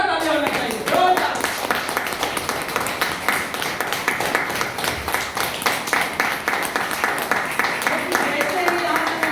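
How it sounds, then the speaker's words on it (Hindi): An audience clapping loudly and rapidly in a hall, a dense continuous burst of hand claps lasting several seconds, with a voice talking over it near the start. "एक बार जोरदार ताली होना चाहिए, जोरदार।"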